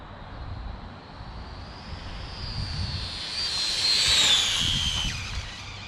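An RLAARLO AK917 RC car makes a speed pass, its electric motor whining high and rising as it approaches, peaking loudly, then fading off, with no talk.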